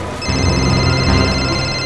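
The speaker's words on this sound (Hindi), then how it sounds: "शिशिर का फोन, ये तो शिशिर का फोन है।" A phone rings with a steady electronic tone that starts abruptly and continues, loud and close, with no talking.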